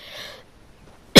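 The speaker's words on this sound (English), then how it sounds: "Sorry about my cough, by the way." A single sharp, loud cough bursts out at the end after a brief faint hiss and near silence.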